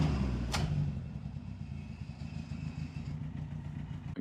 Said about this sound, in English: Listen to that Pinto ticking over.